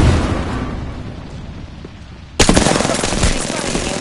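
Loud automatic gunfire from the Apex Legends video game erupts suddenly and continues as a dense, sustained burst after a stretch of rumbling game ambience.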